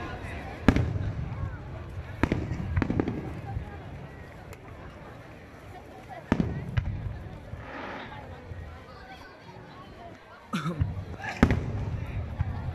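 Hanabi fireworks over Maizuru, Kyoto, Japan, heard as scattered distant booms and sharp cracks every few seconds above a steady crowd murmur, with people talking nearby.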